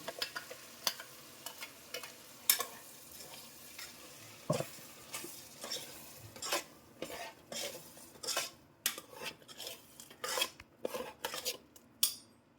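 Hot oil tempering sizzles softly as it is poured into hyacinth bean lentils while a metal spoon repeatedly clinks and scrapes the pot, irregular taps scattered throughout.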